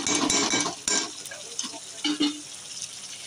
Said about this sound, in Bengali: একটু এদিক ওদিক করে নেড়ে নিয়েছি।